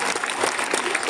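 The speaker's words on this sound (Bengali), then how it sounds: "জোরে হাততালি একটা" Audience clapping loudly and continuously at a smart classroom inauguration at Malancha High School, a dense burst of applause from a crowd.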